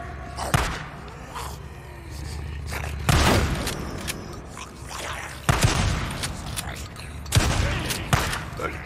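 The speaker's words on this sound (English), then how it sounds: "This dude's shooting me in the back." Enemy gunfire in Days Gone comes as scattered loud cracks and thuds spaced a second or two apart, mixed with rumbling game action and background noise.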